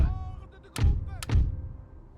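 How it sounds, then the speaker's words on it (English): Two heavy booming thumps about half a second apart as a ground artillery battery opens fire in the Napoleon Total War video game, each shot loud and punchy with a short rumbling tail. "Ground battery, open fire."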